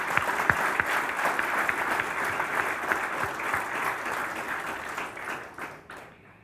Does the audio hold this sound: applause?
yes